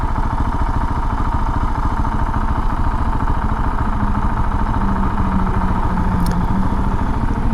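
A 2021 KTM 690 SMC R single-cylinder motorcycle engine pulling steadily under throttle with a quickshifter, a loud, continuous pulsing drone with a slight pitch rise and faint wind noise, no talk.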